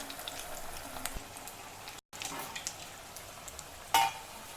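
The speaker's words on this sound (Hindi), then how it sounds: "आप देख सकते हैं ऑयल अच्छे से गर्म हो चुका है। हम एक एक करके इसमें 6 से 7 ब्रेड रोल छोड़ेंगे।" Six or seven bread kebab rolls sizzle steadily in hot oil over a low flame, a constant soft frying hiss with a sharper crackle near the end.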